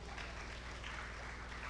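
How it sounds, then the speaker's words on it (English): Sustained audience applause fills a hall at a youth empowerment summit, a steady dense patter of many hands clapping at moderate distance without pause. "Can you please keep applauding these fantastic people?"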